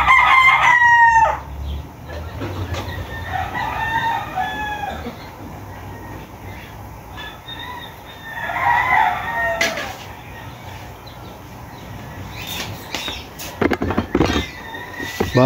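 Gamecocks at a small chicken farm crow repeatedly and cluck, several birds calling at moderate distance with scattered clatter between calls and no talk.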